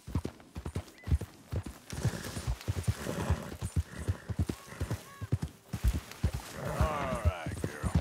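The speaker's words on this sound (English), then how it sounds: "Kick their horses." Horses in Red Dead Redemption 2 clop along in a steady, busy rhythm of hooves, close and clear, and one gives a whinny near the end.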